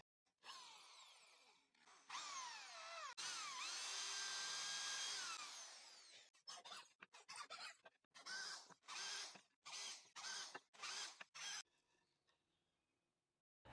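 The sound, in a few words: handheld drill drilling holes in wood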